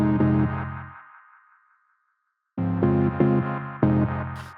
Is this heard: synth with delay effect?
yes